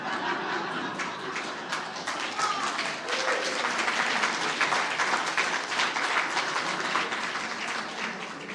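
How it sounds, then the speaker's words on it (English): A room full of people applauds park service award winners at an awards ceremony, sustained, dense clapping close by with a few faint chuckles and voices mixed in. "Do not hold any applause"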